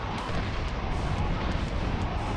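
Heavy, rumbling blasts from grenades in a shooter video game, a dense, loud roar of explosions with crackling bursts running throughout.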